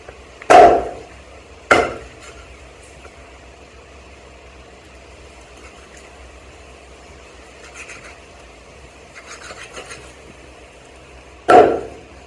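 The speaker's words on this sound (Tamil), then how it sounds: "என்னைக்குமே கறி வெட்டும் போது" A knife chops through country chicken meat and bone, giving three loud, sharp isolated thuds: two about a second apart, then a long quiet stretch with a low background hum before a final chop.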